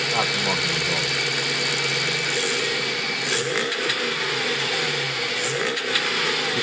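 A Chrysler 300C with its stock exhaust idles and revs lightly in a steady, fairly loud engine drone with a few small swells, while a person talks over it.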